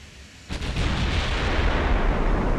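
A warship's main guns fire in the naval strategy game Ultimate Admiral: Dreadnoughts, a loud booming blast that swells into a sustained, rumbling roar.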